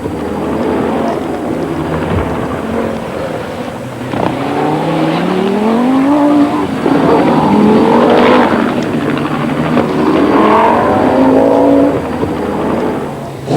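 Turbocharged Audi Quattro rally car driven hard on the RAC Rally, its engine revving up and down through repeated gear changes, rising and falling as it passes, loud and continuous with no talk.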